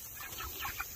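Chickens clucking inside a chicken tractor, a few soft, close clucks over a brief moment, fairly faint.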